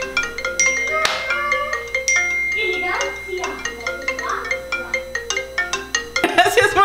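A mobile phone rings with a melodic ringtone for incoming calls, loud and repeating over several seconds, with a voice and other voices briefly audible underneath.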